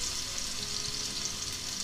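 Food sizzles steadily in a frying pan while a Basque-style hake sauce cooks, a constant close hiss with no voices.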